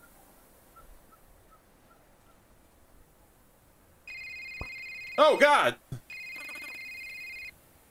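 A phone rings in the video game A Short Hike: after a quiet stretch with faint bird calls, a bright electronic ringtone plays in two bursts, with a person's loud exclamation in between.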